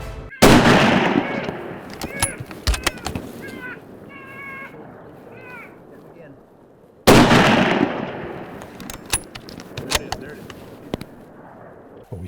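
Rifle shots at a black bear in the Alaskan wilderness: two loud, sharp blasts about six seconds apart, each rolling into a long echo, with bird-like calls and scattered small noises in between.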